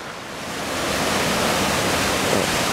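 Along a trail near Glen Ellis Falls, a clear river rushes steadily as a dense, continuous roar that swells slightly and stays even throughout.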